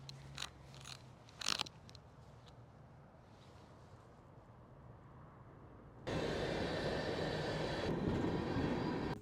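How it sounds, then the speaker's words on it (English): A train approaches and passes close by, a broad steady roar that swells in abruptly after a few quiet seconds with faint clicks and knocks, heard outdoors near the tracks. "here comes the train"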